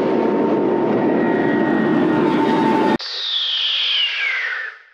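A passenger airplane takes off in the film Rambo 2 (1985), its steady loud engine roar filling the first three seconds before cutting to a thinner, whining jet tone that slowly falls in pitch and then fades away.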